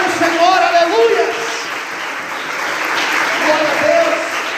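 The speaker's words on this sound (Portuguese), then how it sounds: "Você pode aplaudir e exaltar o Senhor, aleluia." Church congregation applauding during a Portuguese-language worship service, a steady broadband wash of clapping that swells and eases, with voices and tonal sounds from the room mixed underneath.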